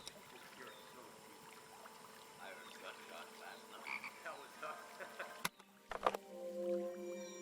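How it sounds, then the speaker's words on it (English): Frog croaks sound near a pond in a video game, faint repeated calls over a soft ambient bed, followed by a sudden louder shift in the soundscape toward the end. "I definitely hear a frog out there somewhere."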